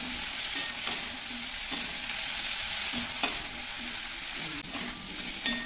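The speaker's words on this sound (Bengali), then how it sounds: "ফুলকপিগুলো আমার ভাজা হয়ে গেছে" Cauliflower pieces fry in a small amount of oil as they are stirred, a steady close sizzle broken by repeated scraping strokes of a spoon against the pan, with no talking.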